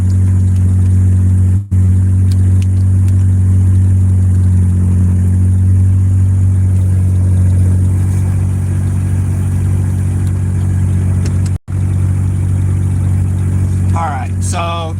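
A Mazda Miata engine runs at a steady idle during tuning, a loud, close, continuous low drone that holds almost unbroken, with two brief dropouts and some faint chirps near the end.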